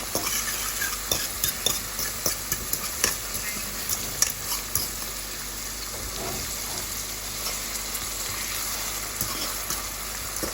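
Lasagna ingredients being sautéed and stirred in a pan, a continuous sizzle with repeated scraping strokes and light utensil clicks, close and fairly loud throughout.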